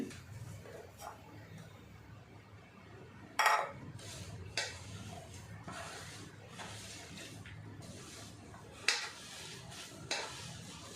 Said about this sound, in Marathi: मी जरा मिक्स करून घेते